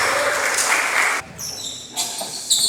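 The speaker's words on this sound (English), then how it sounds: "Clap it up, clap it up." A training group claps together at the end of a workout session, a broad burst of applause that stops abruptly, followed by a brief pause with chatter and a few scattered claps.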